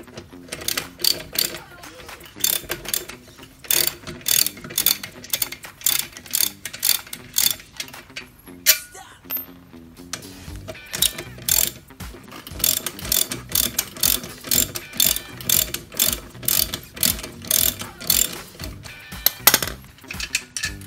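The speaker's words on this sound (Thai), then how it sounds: "ต่อไปดรอปน็อตนี่นะครับ" A ratchet wrench backs a nut off the fan cover of a Honda Scoopy scooter, giving rapid repeated clicking bursts with a brief pause midway and no talking.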